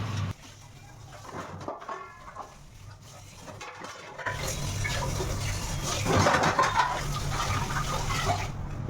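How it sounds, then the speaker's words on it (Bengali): Running water and clattering as dishes are washed, splashing and clinking growing louder and steadier in the second half, with no talking. "এই কিছু বাসন ছিল বললাম না তোমাদের সেগুলোও ধুয়ে নিলাম"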